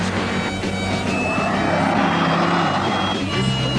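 Heavy 4,400-pound 1971 Buick Riviera accelerating hard with wheel spin, a loud continuous engine roar and tire noise that holds steady throughout.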